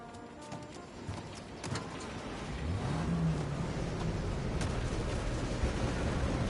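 A car driving in Mafia Definitive Edition, a low engine hum and road rumble that swells slightly partway through, steady and fairly quiet, with no talking.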